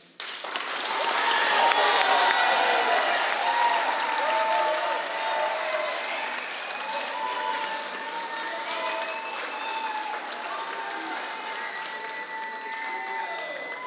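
An audience at an evening cadet public speaking contest applauding to welcome the MC, loud sustained clapping swelling quickly and then slowly thinning, with faint tonal sounds running underneath.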